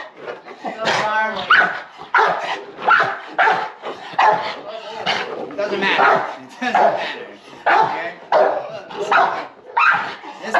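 A dog barks and yips in repeated bursts, close and loud, mixed with someone talking over it throughout.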